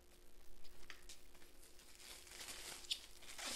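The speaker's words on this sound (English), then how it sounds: "I'm going to take my plastic bag," A plastic bag crinkles and rustles as it is opened for tie-dye, a short run of soft, close crackles that grow brighter toward the end.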